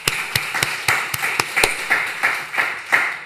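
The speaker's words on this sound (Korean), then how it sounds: "박수 한번 치십시다." A church congregation at a Friday night worship service claps in a steady rhythm, a dozen or so sharp, evenly spaced claps filling the room with no talking.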